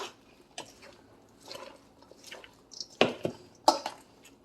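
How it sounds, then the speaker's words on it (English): A salad with sprouted sunflower seeds stirred in a bowl, soft wet squishing and a few louder close clacks of utensil against the dish, quiet and brief. "I'm going to give it a little stir first."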